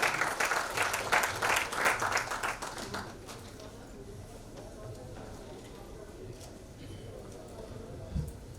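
Applause from an audience at a formal nursing and paramedical institutes award ceremony, greeting a guest; the clapping is strong for about three seconds, then fades to a softer room murmur with a brief bump near the end.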